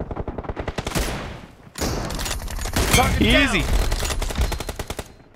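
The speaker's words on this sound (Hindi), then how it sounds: "ये मेरा एक टीममेट सही में ग्रोजा चला रहा है" Groza assault rifle gunfire in BGMI during a sniper-only team deathmatch: rapid automatic bursts crackle on and off throughout, with a voice talking over the shooting.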